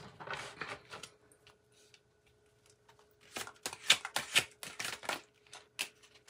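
Cards are pulled and shuffled from an Angel Numbers tarot deck, giving quick papery flicks and taps in two clusters with a quiet gap between them.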